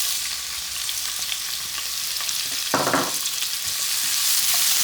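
Onions sizzle and hiss steadily in hot oil infused with fennel and cinnamon over medium-high heat, with a brief stirring scrape partway through and no speech.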